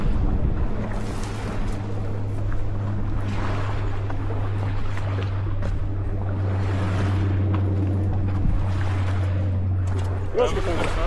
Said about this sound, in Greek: Θα φύγει από εκεί το σκάφο.